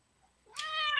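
A cat meow from a sound-effect button plays once, a clear, close, rising meow that starts after a short silence and stays loud to the end.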